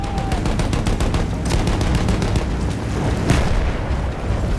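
Field cannons and battlefield guns fire in the World War I shooter Battlefield 1, with rapid repeated shots and booms rolling together in a loud, continuous barrage.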